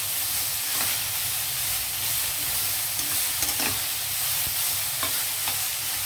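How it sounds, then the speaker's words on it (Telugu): Vegetables for a chickpea pulao being stirred in a hot pan, steady sizzling and frying hiss with occasional soft scrapes of the spoon, close and continuous, no talk. "ఇప్పుడు ఇవన్నీ బాగా మిక్స్ చేయాలి"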